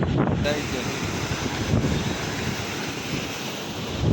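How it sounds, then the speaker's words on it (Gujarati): Floodwater in a village river after heavy rain near an overflowing dam surges as a broad continuous roar, with heavy wind buffeting the microphone over it. "તો જો આ ખાલી ગામ નદીનો નજારો જો એકવાર તમે, કેટલું કેટલું પાણી જાય છે।"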